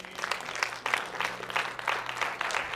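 Congregation in a church service gives a steady round of applause, many hands clapping together at moderate distance, sustained without pause through the clip.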